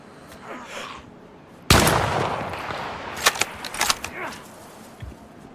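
Gunfire in DayZ on the Namalsk map: one loud, abrupt burst that decays, then a cluster of sharp cracking shots a little later, all over low game ambience.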